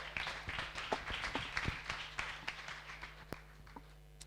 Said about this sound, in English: Please, a huge round of applause to Rubik's.